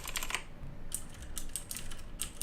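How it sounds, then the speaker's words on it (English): Fast, close typing on a CM Storm QuickFire Rapid mechanical keyboard with green switches, giving bursts of sharp, loud clicks separated by short pauses. "These are a little bit louder in the click noise."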